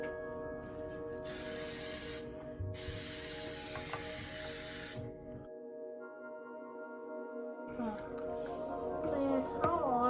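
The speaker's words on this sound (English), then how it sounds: "Let's spray the snowman." Spray can hissing in two bursts of a few seconds each while coating a peanut snowman bird feeder, loud and close, followed by a quiet pause and then someone talking.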